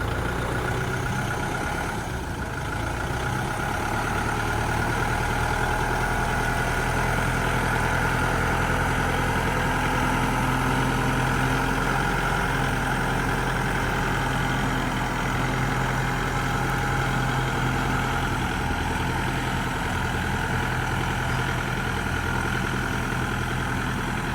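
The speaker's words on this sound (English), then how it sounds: "it's no problem for the tractor as long as you go slow" A tractor engine runs steadily at low revs while driving slowly uphill for the whole stretch, a deep continuous rumble with no talking.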